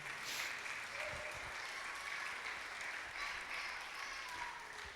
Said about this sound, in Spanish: Dale un buen aplauso al Señor.